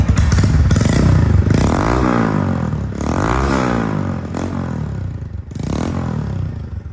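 A loud Honda Monkey Custom "1988 Cherry Edition" motorcycle engine with an aftermarket OVE exhaust revs repeatedly, rising and falling in pitch with a harsh, throaty exhaust note, close by and without talk.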